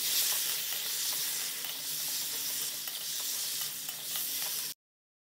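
Spice paste sizzling steadily in a little oil over low heat, part of a rohu fish and potato curry, with faint stirring scrapes throughout before it cuts off abruptly.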